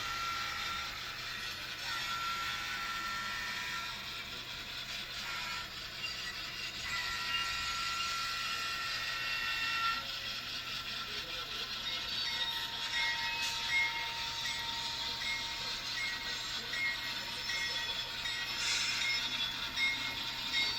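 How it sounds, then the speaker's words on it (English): A model Amtrak Downeaster passenger train runs along a home layout, its faint wheels and mechanism making a steady clicking, ratcheting rumble throughout with no talk. "So this train right here, this passenger train is going to run north to south on my layout."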